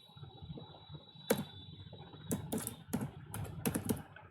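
Keys on a computer keyboard tapped in short bursts of sharp clicks, sparse at first and then quicker, close and fairly quiet over a faint steady hum.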